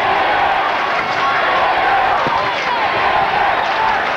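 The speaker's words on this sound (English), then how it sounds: "Now the crowd are enjoying it." Crowd noise at a Kildare versus Donegal Gaelic football qualifier, 2001, a steady broad roar of spectators cheering through injury time, with a commentator talking over it throughout.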